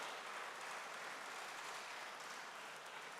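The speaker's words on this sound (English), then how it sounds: "A big, loud round of applause," Audience applause at an evening music show in Chennai, a dense, even wash of clapping that stays fairly soft and distant the whole time, with no talk over it.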